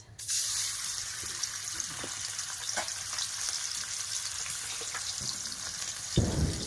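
Prawns fry in oil in a kadai with a constant close sizzling hiss, a few light stirring clicks, and a louder burst of sizzle near the end, with no talking.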